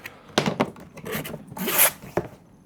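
Short ripping and rubbing bursts as tape is pulled off the box of a Losi 22 Sprint Car RC car, several quick tears close to the microphone.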